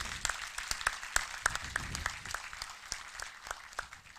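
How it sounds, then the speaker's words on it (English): Audience at an Indian Army quiz event clapping, scattered sharp claps with an uneven rhythm at moderate, fairly faint volume, no voices over it. "Can we just clap for ourselves for being independent today?"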